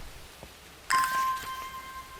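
A bell rings once in the video game Strange Horticulture, a sudden bright chime that sustains and fades over about a second after a quiet lead-in.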